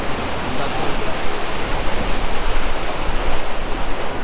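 A loud mountain river rushes past a hot spring in Kasol, Himachal Pradesh, a constant close roar of water mixed with gusty wind.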